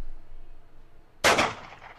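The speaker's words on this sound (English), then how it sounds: "I've got gunshots." A single sharp gunshot sound effect cracks out loud and close, its bright burst decaying into a short rumbling tail after a near-silent lead-in.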